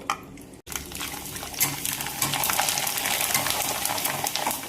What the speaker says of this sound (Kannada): ಎಣ್ಣೆ ಕಾದೈತಿ. ಈಗ ಹಪ್ಪಳ ಹಾಕ್ತೇನೆ.